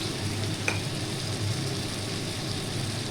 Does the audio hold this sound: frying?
yes